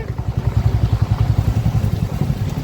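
A motorcycle rolls through a crowded evening market, its engine putting out a close, throbbing low putter in uneven pulses as it moves slowly along.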